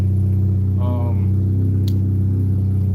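A car engine runs loud and steady, its deep idle drone filling the whole stretch close to the microphone, with a brief voice near the start.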